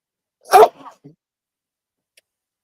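One abrupt sneeze, close and fairly loud, followed by a couple of faint mouth sounds, then near silence.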